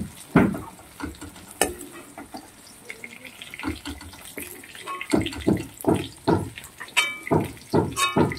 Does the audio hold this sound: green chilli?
yes